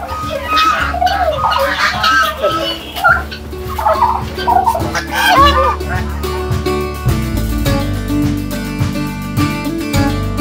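Fancy chickens and peafowl call repeatedly at a bird park in Nashik, loud overlapping gobble-like cries and squawks at close range, with a voice and other talk mixed in.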